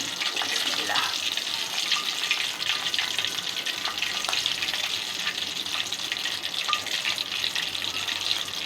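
Sweets frying in hot soybean oil in a kadai over low heat make a dense, continuous bubbling sizzle, steady and fairly loud for the whole stretch.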